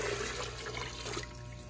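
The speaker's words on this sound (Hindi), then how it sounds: "साथ ही हम इसमें पानी ऐड कर लेंगे" Water poured into a cooking pot for making paya, a brief splashing, running pour that is fairly quiet and close, heard alone with no talk.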